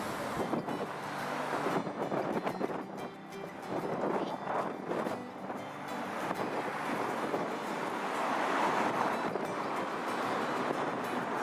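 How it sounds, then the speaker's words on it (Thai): Strong wind buffeting the microphone outdoors in the town of Stamford, a continuous roaring rush with gusty swells throughout, loud and close with no clear talk over it. "วันนี้ก็จะมีลมแรงหน่อยนะคะพี่น้อง"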